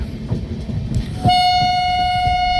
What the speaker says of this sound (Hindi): ये हमारा अराइवल हो रहा है बेलथरा रोड रेलवे स्टेशन पे।